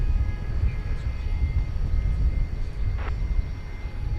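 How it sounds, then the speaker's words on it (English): An AeroLogic cargo jet turns on the ground at DFW Airport at night, heard as a low, continuous engine rumble with a faint whine above it, steady and moderately distant. "There goes the Aerologic turning."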